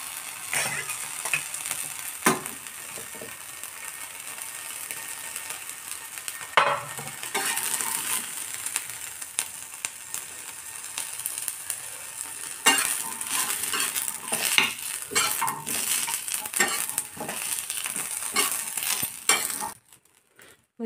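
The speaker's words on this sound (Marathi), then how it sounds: "मिरची पण छानपैकी भाजलेली आहे." Green chillies roast in a pan and are stirred, a soft crackling sizzle broken by repeated scraping strokes of a spoon against the metal, close and fairly loud, ending in silence.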